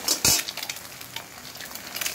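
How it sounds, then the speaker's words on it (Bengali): Two eggs cracked and scrambled as they fry in hot oil in a wok for a bottle gourd and egg curry. A steady close sizzle runs throughout, with stirring scrapes and a sharper crackling burst near the start. "এবার এই ডিম দুটোকে ভেজে নেব"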